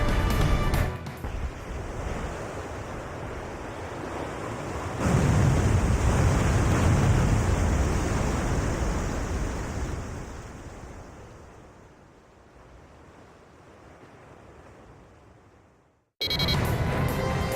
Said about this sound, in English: It damaged the submerged Scinfaxi, picking up sounds of main ballast below. The Scinfaxi's surfacing!